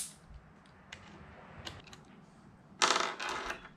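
Someone removes bolts from the intercooler of a 3.0T Audi S4 with a T30 driver, making faint metallic clicks and taps in a quiet space and ending in a louder rattle of parts.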